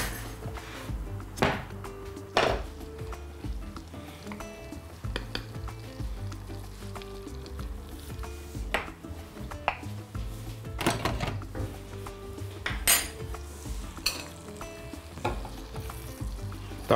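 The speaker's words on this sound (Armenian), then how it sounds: "Տապակում ենք ալյուրը" Flour fries in melted butter with a soft, steady sizzle while a utensil stirs it and scrapes the pan, giving sharp scraping strokes and knocks at irregular intervals.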